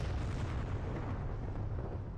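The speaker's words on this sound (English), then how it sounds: "So you heard the sound before the explosion." An explosion in the video game Halo 4 sounds as a dense, rumbling boom that keeps roaring heavily at the low end with no pause, loud and sustained throughout with no talk over it.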